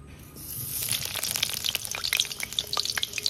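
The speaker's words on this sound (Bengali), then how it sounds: "গরম হয়ে গেছে, আলুগুলো ভাজা বসিয়ে দেব।" Potatoes sizzle and crackle as they fry in a hot wok, with a steady bright hiss and scattered sharp pops building over a few seconds, close and moderately loud with no voices.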